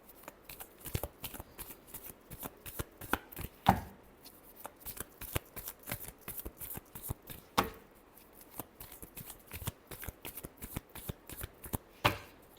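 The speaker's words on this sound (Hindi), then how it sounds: "Last shuffle." Tarot cards are shuffled in quick, uneven bursts of crisp riffling and slapping, close and fairly quiet, with a few sharper snaps standing out.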